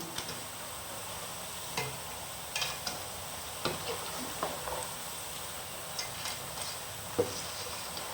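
Murukku fries in hot oil, a faint, even bubbling hiss with occasional light ticks and clinks of a utensil against the pan, quiet and without any talk.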